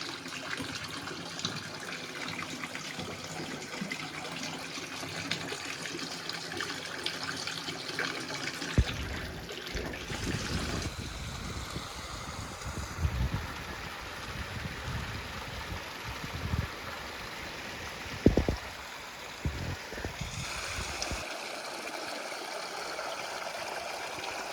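Cold spring water flows from hidden mountaintop springs in a stream near Anonichou, Azilal: a steady, close rush of water with occasional splashes and gurgles, and no talking.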